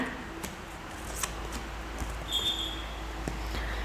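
Tarot cards handled and laid out for a six-card reading: soft, faint papery taps and slides come close to the microphone at an uneven pace in a quiet room.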